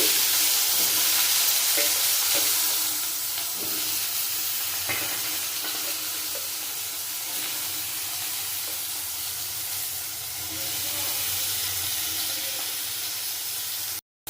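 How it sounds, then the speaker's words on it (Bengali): Eggplant pieces frying in hot oil give a loud, steady hiss and sizzle that runs continuously and close, with faint stirring scrapes and no talking. "তেল গরম হয়ে গেছে আমি দিয়ে দেবো বেগুন বেগুনগুলো ভেজে নেব"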